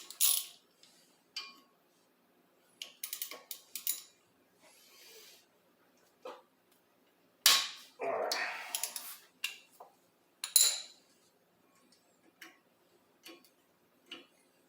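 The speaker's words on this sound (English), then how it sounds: "we're going to simply use a ratchet" A hand ratchet backs out rotor screws on a 2018 Hyundai Elantra, giving sparse, quiet clicking bursts separated by pauses, with occasional faint handling noises.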